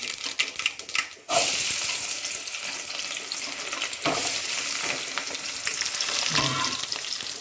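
Chopped garlic frying in hot oil for chicken curry, a dense close sizzle that starts after a few clatters and carries on steadily, with occasional stirring scrapes.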